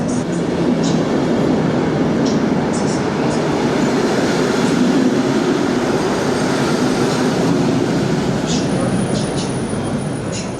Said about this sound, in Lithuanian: Važiavo traukinys mums bešnekant